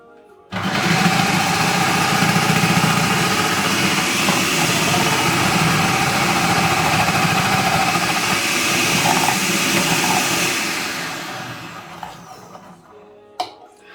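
A food processor grates continuously, a loud, steady whirring motor drone that runs evenly for about ten seconds, then slows and winds down, ending with a couple of small clicks, and no one speaks.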